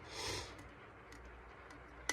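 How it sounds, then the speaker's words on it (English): A single soft, breathy sniffle close by near the start, followed by quiet room noise and a faint click at the end. "I keep sniffling, I'm about to sneeze."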